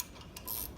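A small ratchet wrench clicks as it snugs up a bearing on a John Deere 400 rotary mower, with a few short, quiet mechanical ratcheting bursts close by.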